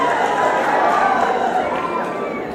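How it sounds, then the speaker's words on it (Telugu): A large crowd at a political rally in Cheepurupalli applauds and cheers in a loud, dense, continuous roar that holds steady and fades slightly at the end. "మీరందరూ కూడా గట్టిగా చప్పట్లు కొడుతున్నారంటే"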